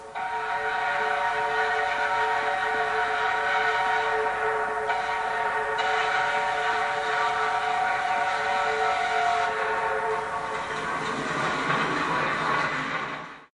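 Steam locomotive 1658 crossing Pennsylvania forest country on the way to the Kinzua Bridge sounds a long, loud, sustained whistle that holds steady for several seconds before cutting off.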